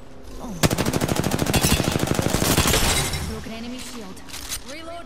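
A long burst of rapid machine-gun fire in a video game hammers out dozens of evenly spaced shots, loud and close, then gives way to scattered impacts and breaking sounds while voices talk around it.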